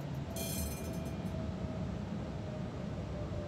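A Škoda tram from Bratislava rolls past outdoors, a steady broadband rumble of wheels on rail with a brief high metallic squeal near the start, no voices.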